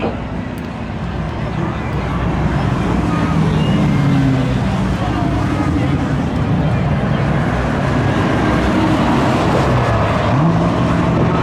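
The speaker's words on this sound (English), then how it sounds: "Here comes John Gallant from Bristol, Rhode Island in his Mazda Miata 1991." A 1991 Mazda Miata runs in a spectator drag race at Seekonk Speedway, its engine a loud, continuous roar mixed with crowd and track noise, while an announcer talks over it throughout.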